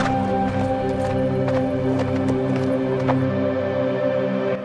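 Horse hooves thud and clatter over a steady music score in a dramatic scene where a bareback horse is ridden with a rope halter, the hoofbeats coming in fairly quick, uneven strikes.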